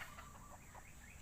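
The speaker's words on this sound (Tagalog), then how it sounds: "Ayun yung puting sisiw oh. Yung manok." Chickens cluck in soft, repeated calls at a distance, faint over steady background noise with no voices.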